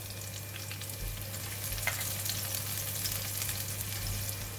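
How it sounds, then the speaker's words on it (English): Garlic and chili sizzle steadily in a hot pan during a stir fry, a continuous crackling hiss with faint scraping from stirring, fairly quiet and close, no talking. "Stir fry until the chili releases its aroma"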